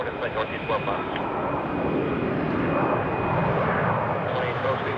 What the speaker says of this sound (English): we're looking at an Embraer E175 landing on runway 34 left